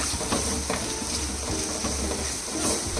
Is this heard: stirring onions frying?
yes